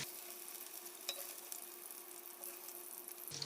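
Potatoes and cauliflower sizzle in hot oil with a steady, close crackle. Occasional stirring clinks sound against the pan, and no one speaks.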